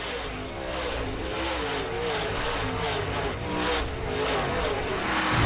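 On-board sound of a dirt late model race car during a long green-flag run at the Show Me 100, the engine roaring loud and continuous with rhythmic surges as it revs through the laps.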